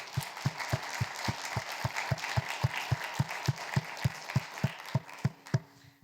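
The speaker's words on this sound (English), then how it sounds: "a big round of applause for everybody" Steady, evenly paced clapping from a community meeting audience, with one sharp clap standing out in a regular rhythm over softer scattered applause, fairly quiet and fading at the end.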